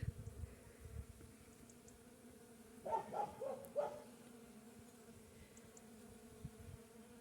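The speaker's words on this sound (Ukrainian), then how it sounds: "Не знаю, чутно, як бджілки гудуть." Bees buzz faintly outdoors on a walk through a birch grove, a short cluster of droning passes rising for about a second in a quiet setting.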